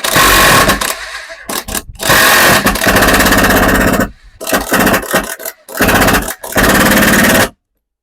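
A Grosser GID 230N cordless impact driver drives a screw in loud, close, rapid hammering bursts, several rattling runs separated by short pauses, then cutting off abruptly.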